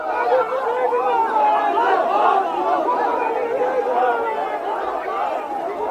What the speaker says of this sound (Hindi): धरना स्थल पर आ गई है वो, कुछ नारेबाजी तो हो रही है वहां पर।